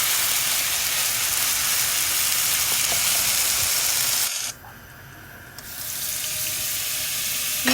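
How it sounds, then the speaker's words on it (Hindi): Salted food fries in a pan while being stirred, giving a loud, steady sizzle that briefly drops away for about a second, then returns at full strength. "अब हम इसको मिक्स करेंगे।"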